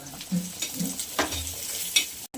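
Grated coconut fries in hot masala for a spicy matki curry, with a soft sizzle under repeated close scraping and stirring strokes of a spoon in the pan.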